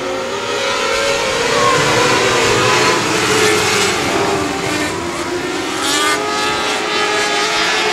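An orange and black number 29W race car roars loudly past at Sabine Speedway, its engine note sweeping and gliding in a continuous close, high-revving howl with no voices over it.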